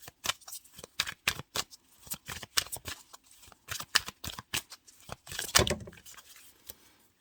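Tarot cards being shuffled by hand, a quick run of crisp, papery riffles and flicks in uneven bursts, close and moderately loud, with no talking.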